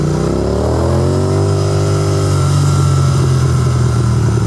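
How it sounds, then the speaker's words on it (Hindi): A Royal Enfield Continental GT 650 motorcycle being ridden, its engine giving a steady, loud, close drone whose pitch slowly rises and settles, with no voices. "बड़े दिनों बाद ऐसे बाइक चलाना तो बड़ा अच्छा लग रहा है"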